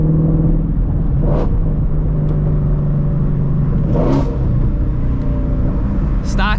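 A 2016 Shelby GT350 with its stock exhaust rumbles loudly and steadily from inside the cabin, with brief revs swelling over the continuous drone of the engine and road noise.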